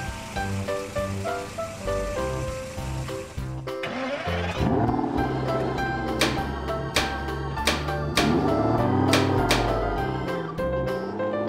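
Cartoon toy car engine revving and accelerating in a kids' color-learning animation, a loud steady motor hum with rising whooshes and sharp bright clicks, mixed with playful music.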